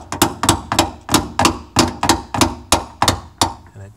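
Repeated sharp metallic blows from a large hammer striking a door hinge pin on a Chevrolet K5 Blazer, about nine evenly spaced clanging hits, loud and close, with no talking.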